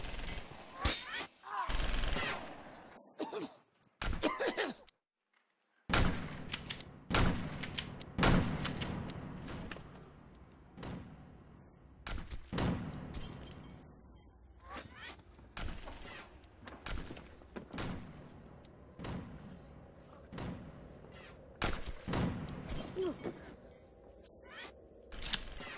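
Gunfire in a shootout: loud, sharp shots crack repeatedly, some in quick bursts and others spaced apart, with a brief drop to near silence early on and faint voices at the start.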